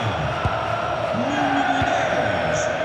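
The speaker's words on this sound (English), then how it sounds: "The crowd certainly think so. Just listen to them." Stadium crowd noise from EA Sports FC 26, a Champions League match of Benfica against Real Madrid in Lisbon, a steady roar of thousands of fans under game sounds, with a couple of sharp thuds and a brief whistle-like tone.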